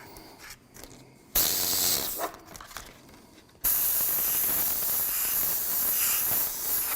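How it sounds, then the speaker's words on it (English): Short bursts of airbrush spray hiss in a dry-spraying technique, laying white paint over realistic fire artwork; the first burst is brief, then a longer steady hiss follows after a pause, close and clear. "you very carefully, you spray what I call dry spraying"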